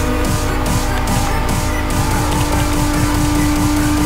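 A BMW E39 M5 racing in Need for Speed, its engine roaring steadily at high revs as the tires squeal through a skid, loud and close throughout.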